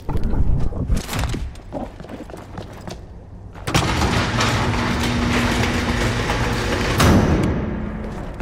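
A subway train in the Dead Island 2 video game rumbles and clatters along the tracks, loud and close, with sharp bangs early on, then a steady roar and rhythmic clanking.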